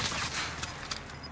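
Gunfire in Call of Duty Warzone, a brief burst of rapid shots over a dense, noisy game mix, fairly loud and lasting only about a second, with no voices over it.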